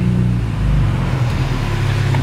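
A cold Honda Accord CB7 engine idles loud and steady up close, a constant low rumble with an uneven, hunting quality while the motor warms up.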